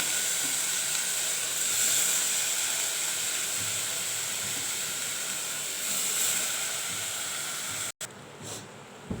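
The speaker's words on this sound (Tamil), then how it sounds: "இப்போ நம்ம எடுத்து இந்த அத்திக்காயை போட்டு நல்லா வதக்கலாம்" Unripe figs sauté in a hot pan, giving a steady, close sizzling hiss that runs almost unbroken, then a sudden cut and a quieter stretch of softer frying at the end.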